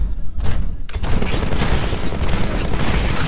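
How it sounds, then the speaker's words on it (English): A Titanfall Vortex Shield hurls back its absorbed projectiles in a loud, dense barrage of crackling bursts and booms, starting after a brief lull and continuing without pause. "This weapon absorbs incoming ballistics for a limited time, then refires them"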